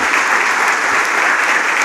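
Dense, loud applause from an audience at an awards ceremony, a steady wash of many hands clapping with no break.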